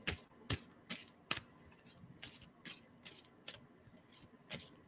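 A deck of tarot cards gets shuffled, with faint, sharp snaps and riffles repeating at short intervals, close up in an otherwise quiet room.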